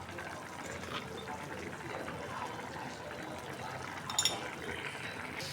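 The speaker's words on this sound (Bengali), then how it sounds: "সবজিটা বসাই দিয়েছি, একটু পানি নেই" Water trickles and pours steadily into a pot of vegetables set on to cook, a soft continuous liquid wash with a brief louder splash near the end, low kitchen noise behind.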